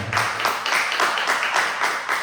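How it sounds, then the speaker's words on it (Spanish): A church congregation applauds during a morning service, its many hands falling into an even rhythmic clap of regular beats, steady and fairly loud throughout. "Dale un aplauso a tu Cristo en esta mañana"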